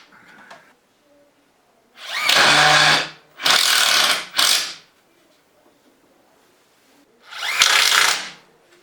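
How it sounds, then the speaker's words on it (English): Power tool driving bolts into metal ladder tower parts in four close, loud bursts of whirring, each about a second long, separated by near silence. "Stronger as I bolt more and more of this together."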